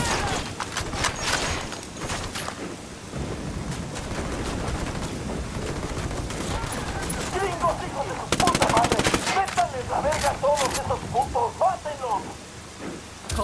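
Rapid bursts of automatic gunfire and single shots in the video game Ghost Recon Wildlands crackle loudly and repeatedly, with a dense rattling volley near the middle and scattered shots on either side.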